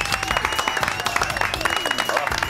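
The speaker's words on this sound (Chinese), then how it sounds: "掌声鼓励。" Clapping from a small group, brisk and steady for a couple of seconds, with some voices mixed in.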